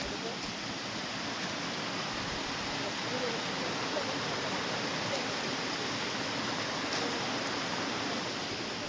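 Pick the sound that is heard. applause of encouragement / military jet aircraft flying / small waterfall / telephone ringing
small waterfall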